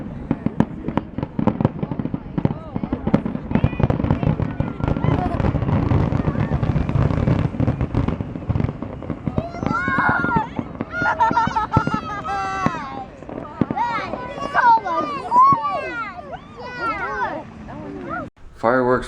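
A fireworks finale explodes in a dense, continuous barrage of booms and crackles, loud and close, while people cheer and shout over the blasts.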